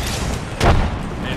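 A frag grenade goes off in Apex Legends as one short, muffled boom rising out of constant battle noise and then fading quickly.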